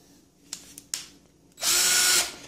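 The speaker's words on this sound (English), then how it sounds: "I had to use the power drill to remove those screws." A power drill backs screws out of the metal shield on a PS3 Slim motherboard, with a few light clicks and handling taps and then a loud, close whir lasting under a second.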